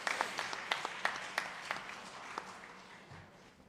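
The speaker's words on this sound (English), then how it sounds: "May we have a big round of applause from Santhan Krishnam" Scattered, fairly faint clapping from a conference audience at a mediation conference's closing ceremony, a handful of distinct claps over a soft background patter that fades away within a few seconds.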